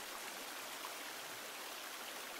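Water flows steadily outdoors at night in a forest, a soft, continuous rushing hiss like a nearby stream, faint and unbroken with no voices over it.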